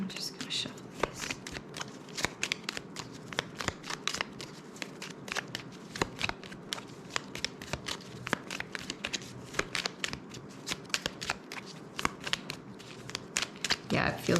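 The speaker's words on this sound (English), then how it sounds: "I'm just gonna shuffle these." Tarot cards are shuffled close up in rapid crisp riffles and flicks, a dense run of sharp papery clicks, with soft speech faintly underneath.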